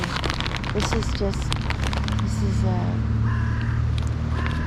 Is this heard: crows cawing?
yes